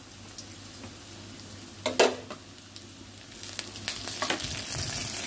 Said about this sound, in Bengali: এখন আমি আদা রসুন বাটা দিয়ে দিব।